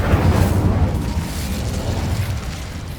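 Incendio fire spell cast in Hogwarts Legacy: a loud, deep whooshing burst that hits hard at the start, then rumbles and fades over a few seconds.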